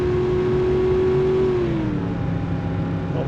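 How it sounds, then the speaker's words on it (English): Car engine in BeamNG.drive running with nitrous armed, a loud sustained revving whine that holds steady and then drops in pitch, close up with no talk over it. "Oh my god, the engine will explode at any minute"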